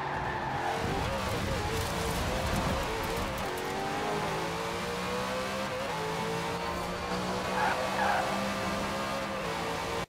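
A roughly 900-horsepower car accelerates hard in the racing game Forza Horizon 4, with its engine roaring loud and steady and rising through the gears while tires squeal briefly, filling the whole stretch without talk.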